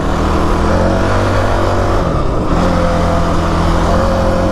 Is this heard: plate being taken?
no